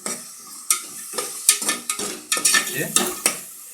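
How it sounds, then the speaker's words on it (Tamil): Chopped tomatoes sizzling in a hot pan while a spatula scrapes and stirs in quick, repeated strokes, close up. "நறுக்கிய தக்காளி பழத்தையும் போட்டுக்கிறோம் இதையும் நல்லா வதக்கிக்கிறோம்"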